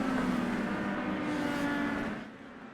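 Modified legend race cars on the South Boston track roar past as they reposition, a fairly faint engine drone that fades out toward the end with no voices.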